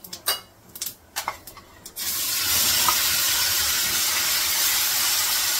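Onion-tomato ground paste hits hot oil with cumin, a sudden loud sizzle that follows a few clinks and knocks, then stays as a steady, close hiss.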